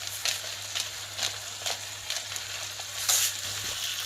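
Savoury pancake filling with tomato frying in a pan, a steady close sizzle with periodic bursts of stirring and scraping, no voices.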